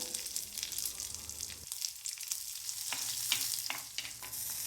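Coriander seeds, black pepper and cumin sauté in a pan for ginger chutney, giving a hissy sizzle with intermittent spoon scrapes and clicks as they are stirred, near and soft, with no talking.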